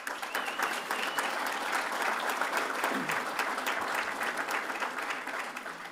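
Applause from a crowd at an alumni hall of fame reception, a dense, even patter of many hands clapping continuously at moderate volume.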